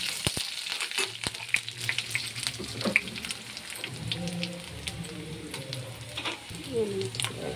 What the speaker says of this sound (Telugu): వెల్లుల్లిపాయ ఫ్రై అయిన తర్వాత జీలకర్ర వేస్తాను. జీలకర్ర కూడా ఫ్రై అయ్యింది.